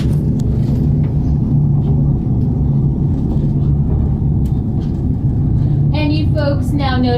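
An aerial tramway car on the Sandia Peak Tramway rumbles steadily as it travels along its cable, a loud continuous low drone throughout, with people talking over it near the end.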